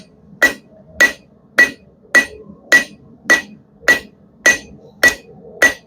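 A blacksmith hammers a steel chain hook on an anvil, ten evenly spaced ringing strikes about half a second apart, loud and close with no talking.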